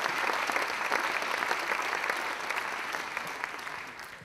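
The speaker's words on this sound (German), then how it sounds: "mit einem Applaus geht es leichter" Steady applause from an audience at the Leibniz award ceremony in Bonn, a full, even clapping that fills the room and slowly fades toward the end.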